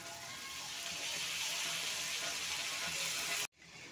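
Boiled chana dal tipped into a hot pan of sautéed spices sends up a loud, steady sizzle that fills nearly four seconds, then cuts off abruptly into a much quieter hiss.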